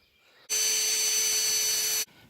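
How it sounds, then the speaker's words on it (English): A power drill bores starter holes into wood, a steady loud whine holding for about a second and a half before cutting off abruptly, with quiet surroundings on either side. "Okay, got my drill. I'm going to make some starter holes."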